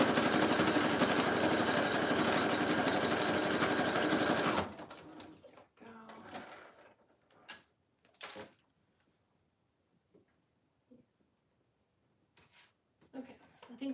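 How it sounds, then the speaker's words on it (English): Sewing machine stitching rapidly and continuously for about five seconds up close, then stopping, followed by faint handling sounds and quiet rustling. "So I'm sewing like right next to the spine"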